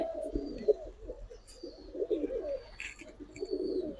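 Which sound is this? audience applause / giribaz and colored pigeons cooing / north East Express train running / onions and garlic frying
giribaz and colored pigeons cooing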